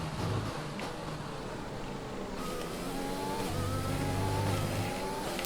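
Aston Martin Formula 1 car engine in the F1 2021 racing game, a high revving whine that climbs through gears with shifting pitch, loud and continuous with road and tyre noise beneath.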